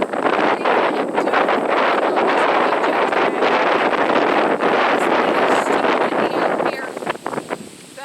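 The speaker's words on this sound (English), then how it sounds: "I just feel like I'm battling the wind" Strong wind buffets the microphone outdoors on a homestead on a late September afternoon, a loud continuous rumbling roar with gusty flutter that eases near the end.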